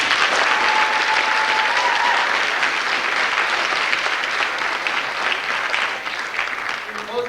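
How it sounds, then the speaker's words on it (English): A crowd at a sports awards ceremony breaks into sustained, dense applause that holds steady for several seconds, then thins and tapers toward the end. "Please join me with a round of applause to show our appreciation."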